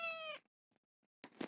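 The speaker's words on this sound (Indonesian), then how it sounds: "Kalian kedengaran gak suara kucing?" A house cat gives one short, clear meow close by, followed by quiet gaps and a burst of muffled handling noise.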